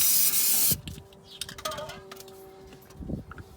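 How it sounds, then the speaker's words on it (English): A short, loud burst of aerosol spray hisses for under a second, then stops, followed by quiet handling clinks and faint rustling, while lowering Hydragas suspension on an MG Metro. "I'm going to just spray it up a little bit just so it goes on easier."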